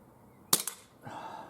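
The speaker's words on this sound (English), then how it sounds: "I'm not counting the shots, so I'm not sure how many there is" A CZ Shadow 2 CO2 airsoft pistol fires two sharp, close shots about a tenth of a second apart, with the gas likely running low, followed by a faint mechanical rustle.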